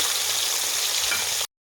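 Pieces of rohu fish, rubbed with salt and turmeric, fry in hot oil in a wok, making a close, steady crackling hiss that stops abruptly after about a second and a half.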